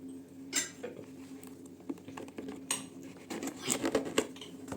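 Crinkling, tapping and clinking handling noises as a Kent 300W hand blender package is opened and its contents shifted around, irregular and close.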